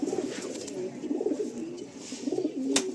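An adult female long-size Kaldom pigeon coos in a low, rolling series of close, steady murmurs, with a brief sharp click near the end and almost no talk.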